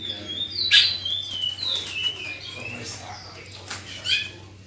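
Brazilian songbirds, curió and bicudo, give bright whistled phrases and quick chirps, fairly close and moderately loud, over a low background hum.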